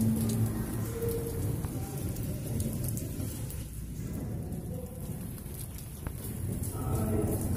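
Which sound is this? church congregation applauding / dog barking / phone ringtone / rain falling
rain falling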